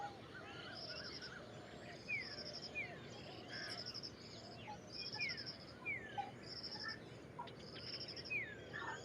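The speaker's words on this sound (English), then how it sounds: "you can hear a common ayaro calling" A common iora calls repeatedly at dawn, short clear whistled notes recurring every second or so at a distance, set within a faint chorus of other birds and insects.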